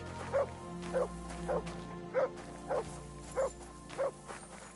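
A dog named Mats in Kingdom Come: Deliverance II gives seven evenly spaced, moderate barks about half a second apart over a faint ambient bed.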